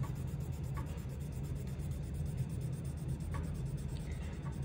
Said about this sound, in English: Remember, you can use the side of your pencil, the same way that you would shade as well with a normal pencil.